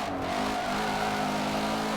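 A car races in Forza 7, its engine droning loud and steady at high revs with a continuous tonal whine and no pauses, and no talking.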